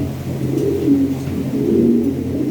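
A big pair of Lahori Shirazi pigeons coo close by, with low, throaty, rolling calls that swell and fade steadily, and no talking over them.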